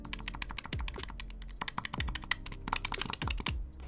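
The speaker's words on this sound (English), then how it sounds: "annoyed with the clicky clacky buttons" Rapid, close clicking of the buttons on an ROG Ally X handheld gaming device, sounding like sharp plastic clacks in irregular, dense bursts, much like typing on a keyboard.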